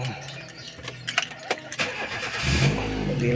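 A car engine with a defective crankshaft pulley, also called a harmonic balancer, cranks and catches near the end, settling into a steady loud idle after some clattering and jangling.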